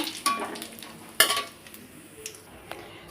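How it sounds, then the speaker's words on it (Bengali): Whole spices, bay leaves, cumin and dried red chilli sizzle softly in hot oil in a pan for a mutton curry, with a few sharp clinks and scrapes of a spoon against the pan. "এখন ফোড়নটাকে বেশ লাল করে নেব"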